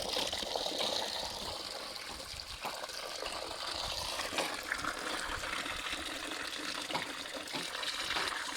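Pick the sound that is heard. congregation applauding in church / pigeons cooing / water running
water running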